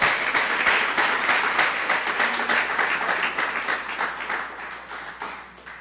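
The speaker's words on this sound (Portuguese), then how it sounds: "Dê uma salva de palmas ao Senhor." A church congregation applauds, dense overlapping clapping that holds steady for several seconds and then gradually fades.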